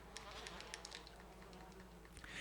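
Bees buzz continuously in the Wii version of Resident Evil, a dense insect drone with scattered sharper tones and small flits, loud and close throughout with no talking.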